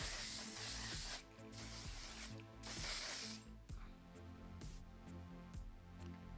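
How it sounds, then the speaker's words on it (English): One Size Beauty setting spray mists from a pump bottle onto a face in several quick bright hissing bursts over steady background music. "We're just gonna mist this sucker all over."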